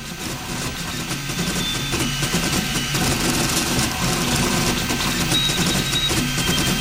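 Riki200 3D printer with pulley drive printing at high acceleration, a continuous busy whir of stepper motors with rapid buzzing and ticking movements, steady and close throughout, with no talk.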